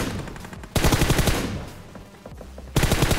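Automatic gunfire in the mobile game PUBG Mobile erupts in two loud, dense bursts of rapid shots, separated by a brief quieter stretch, with no voices over it.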